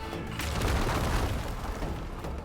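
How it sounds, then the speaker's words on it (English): Rock traps going off in Horizon Forbidden West, a dense rumbling barrage of booms and crashing rock, loud and continuous for a couple of seconds with no talking. "You guys are just setting off a ton of rock traps."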